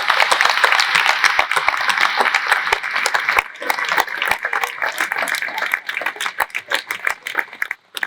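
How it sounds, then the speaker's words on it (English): Applause from a gathered audience at an anniversary celebration, a dense wash of many hands clapping that stays steady for several seconds and then thins into scattered claps toward the end. "Please give a round of applause to my brother Andy and his wife Lisa"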